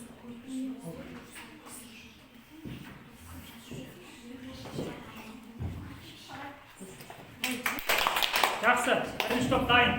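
Pupils in a school classroom break into applause, a dense burst of clapping rising near the end after a stretch of talking and shuffling.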